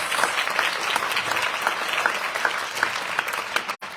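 Audience applause for the children at an MLK Day speech, a broad, even roar of clapping from a large gathering that holds steady and then cuts off abruptly near the end.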